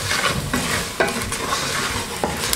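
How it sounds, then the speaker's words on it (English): Spices are stirred into sizzling meat in a pot for Kenyan pilau, close scraping strokes over a steady frying hiss. "Then we are going to stir them."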